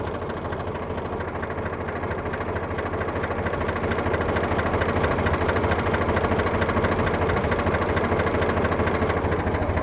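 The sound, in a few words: engine idling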